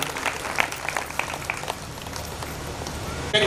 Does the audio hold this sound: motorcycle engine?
no